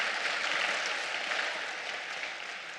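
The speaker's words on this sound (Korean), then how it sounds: "박수 한번 합시다." Sustained audience applause at a Christian lecture, a dense, even wash of many hands clapping at once, steady throughout and fading slightly near the end, with no voices over it.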